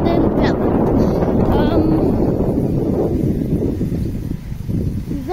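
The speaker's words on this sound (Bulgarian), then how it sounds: "Ужасно гадно ветренице, че вятър, този ужасен гаден вятър." Strong wind buffets the microphone outdoors, a loud, continuous roaring rumble that gusts and eases slightly toward the end, with a few faint bleat-like cries over it.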